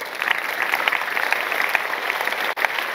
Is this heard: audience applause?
yes